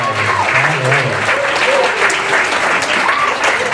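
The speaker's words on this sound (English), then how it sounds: "Let's have one more round of applause for Drayo." Audience at a school fall concert applauds steadily and loudly for several seconds, a dense wash of many hands with faint voices mixed in.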